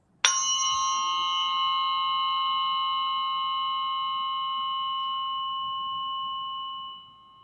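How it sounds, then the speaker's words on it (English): A 174 hertz tuning fork used for biofield tuning is struck once and rings with a pure, bell-like sustained tone that fades slowly over about seven seconds and then cuts off, alone in a quiet room. "This is the sort of workhorse fork of Biofield tuning."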